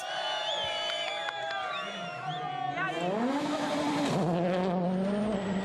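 Rally car arriving on a gravel stage of Rally Sardegna driven by Martin Prokop, its engine note rising and shifting through gears beneath steady crowd noise, moderately close and continuous.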